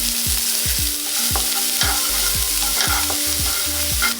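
Onions, green chillies and coriander sautéing in butter for an egg medu vada dish, a loud, close sizzle with rapid rhythmic scraping strokes of a spatula against the pan, around a dozen in quick succession, no speech.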